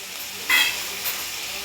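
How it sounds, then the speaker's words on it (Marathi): Leafy gavar vegetable bhaji being stirred in a hot pan, a soft sizzling hiss with a brief louder scrape and sizzle burst partway through, then a lighter stir. "आता भाजी चांगली परतून घेऊया आपण."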